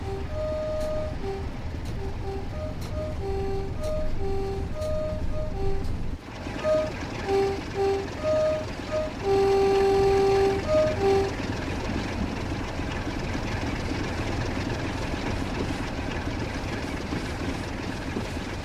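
A simulated 1980s military freight train engine pulls away on the US West Coast in Train Sim World 6, with a continuous low diesel drone, periodic horn-like tones and rising engine rumble, and no talk.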